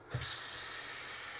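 Tap water pours steadily into a bathroom sink with the drain stopper up, a continuous broadband rush that starts abruptly and stays loud and close throughout.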